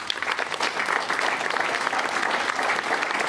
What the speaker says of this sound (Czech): Velký potlesk pro všechny, i pro Helču, pro Slunko, pro všechny vystup